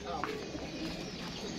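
Pigeons coo softly and briefly in the background while someone talks nearby, with faint low calls under a steady room hum.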